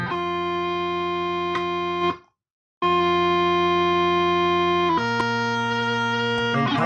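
Steady buzzing notes from an electronic bagpipe practice chanter, changing pitch in steps, with a brief gap and a short blip as the notes shift, from fingers left partly on the holes.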